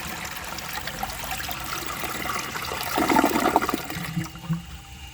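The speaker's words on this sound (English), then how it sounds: "let's give this a flush and see how it does on tests" A 1970 Montgomery Ward toilet flushes with a steady rush of water that swells into a louder gurgling surge near the end, then drains away as the bowl refills.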